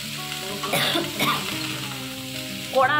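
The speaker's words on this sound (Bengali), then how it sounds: "বাঁধাকপিটা আস্তে আস্তে নাড়িয়ে নাড়িয়ে চাপা দিয়ে দিয়ে রান্না করতে হবে।" Cabbage frying in a pan sizzles steadily while a spatula stirs it in a few scraping strokes, close by, with a brief throat-clearing sound near the middle.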